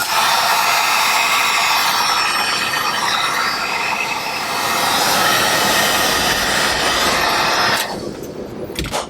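A heat gun blows a loud, steady roaring hiss while heating a tight barrel for installation, continuing unbroken for several seconds before dropping in level near the end.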